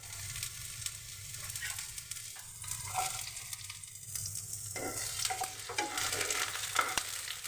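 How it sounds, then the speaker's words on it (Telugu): Oil heats in a kadai for tempering, giving a faint, steady sizzle with occasional soft clinks and scrapes of a utensil nearby. "కళాయిలో ఆయిల్ వేసుకుందాం తాలింపు కోసం."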